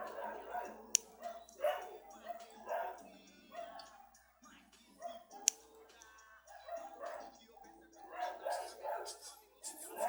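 A dog barks repeatedly in short yapping bursts, fairly near, with speech in Portuguese running over much of it.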